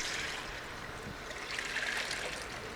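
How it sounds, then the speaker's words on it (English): A gallon of water is poured into a pot, a steady close splashing rush that continues throughout at an even level, with no talk. "We're going to pour it in."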